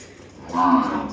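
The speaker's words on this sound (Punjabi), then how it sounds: "ਪਿੰਦਰ ਤੋਂ ਮੈਸਾਂ ਲੜਤੀਆਂ" A buffalo lows once on a farm, a loud, sustained moo rising after a brief quiet start and holding for about half a second before easing off.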